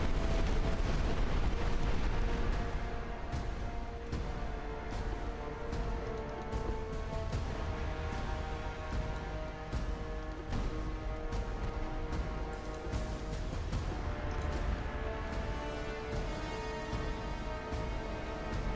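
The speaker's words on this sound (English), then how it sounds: "So we got 3 torpedo hits there." Torpedo hits exploding against warships in the naval strategy game Ultimate Admiral, a continuous dense barrage of booming blasts and rumbling impacts that stays loud and layered throughout, with no talk.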